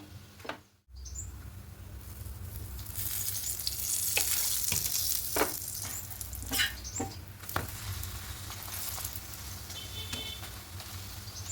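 Lachha paratha frying in a pan, a steady sizzle with soft crackles and a few sharp pops and spatters, fairly close and with no voices.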